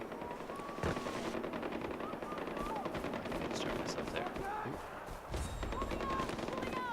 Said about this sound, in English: Is it just me or do I hear gunfire?